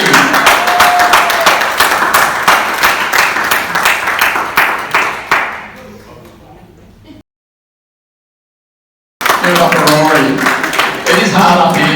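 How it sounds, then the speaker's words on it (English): Applause from an open mic crowd welcoming the next act, loud close clapping that fades into a sudden dead gap, then returns with voices talking over it. "Come on, give it a big round of applause."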